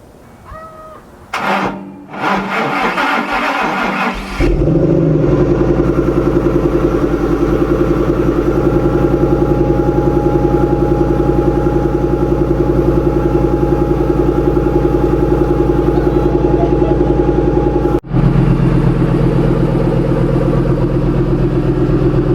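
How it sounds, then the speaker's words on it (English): A Ford Mustang Shelby GT500 with new fuel injectors cranks briefly and fires, then settles into a loud, steady close idle that holds for many seconds, with a short dip near the end. "it is finally time to go ahead and do a first start of the Shelby"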